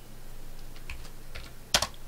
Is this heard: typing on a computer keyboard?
yes